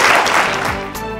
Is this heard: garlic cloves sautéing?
no